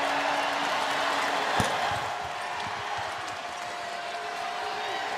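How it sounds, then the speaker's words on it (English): Crowd noise fills a basketball arena during an NCAA women's championship game between Utah and Gonzaga, a steady loud roar with cheering throughout and a sharp thud near the start, with a commentator talking over it. "Listen to this crowd."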